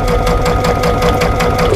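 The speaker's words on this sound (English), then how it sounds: "I'm stitching a perfect quarter inch seam without any stretch." Sewing machine running fast and steady, stitching a quarter inch seam, a close continuous mechanical whir with rapid regular needle chatter and no pauses.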